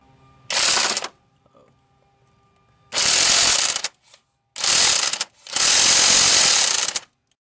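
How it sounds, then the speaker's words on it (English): Impact wrench hammering at the harmonic balancer center bolt of a Pontiac Aztek, four loud close bursts of rattling impacts, short ones then a longer sustained run, separated by quiet gaps. "even with this impact wrench, this bolt in the center is just not coming out"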